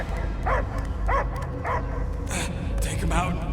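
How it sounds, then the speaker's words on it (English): A dog barks in the video game Guardians of the Galaxy. A handful of short yips and whimpering barks come in quick succession over a low ambient game backdrop. "I hear only barking."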